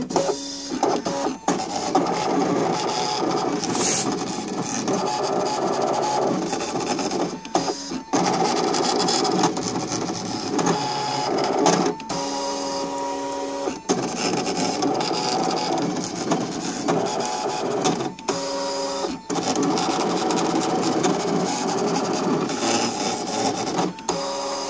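A Brother ScanNCut machine cuts quilt templates, a close, busy mechanical whirring of motors and blade carriage with short pauses and shifting buzzy tones as the head moves, running alone without talk.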